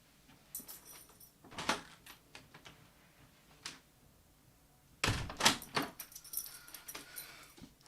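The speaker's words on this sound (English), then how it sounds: "I'm just going to open the door for my cat." A door opening to let a cat out indoors: faint clicks and rattles of a handle and latch, followed by a louder burst of scraping and thumping as the door swings. No talk is heard.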